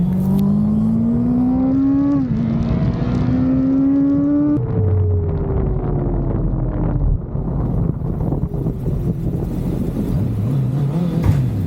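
A Honda CBR650R motorcycle pulls away hard from a standstill, its engine note rising through the revs, dropping at a gear change, then climbing again under heavy wind rush on the open road.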